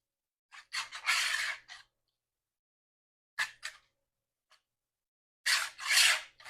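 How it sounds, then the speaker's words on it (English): A whisk works through cake batter in a bowl for a pumpkin spice dump cake, in three short bursts of quick, bright scraping strokes separated by silence. "let's whisk a little bit, just to get a little bit mixed up"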